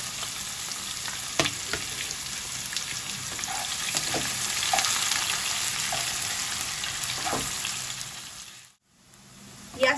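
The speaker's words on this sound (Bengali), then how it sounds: "পেঁয়াজটা আমি হালকা লাল লাল করে ভেজে নিচ্ছি।" Finely chopped onions fry in hot oil, browning for Bengali-style ghugni, a loud continuous sizzle with occasional stirring knocks that drops out briefly near the end before resuming, with no voices.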